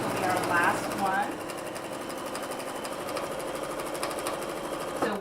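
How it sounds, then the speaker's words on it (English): A sewing machine runs steadily, stitching quilt half-square triangles a quarter inch from each side of a drawn line. Its fast, even mechanical chatter is close and continuous, with a brief voice near the start. "Sew down this side."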